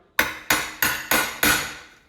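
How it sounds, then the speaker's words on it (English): Five sharp metal-on-metal hammer taps on a punch, driving out a dishwasher plug during a kitchen remodel, spaced evenly about a third of a second apart, close and loud with short ringing decays and no talking. "Usually the best way to handle that is just take a punch and a hammer"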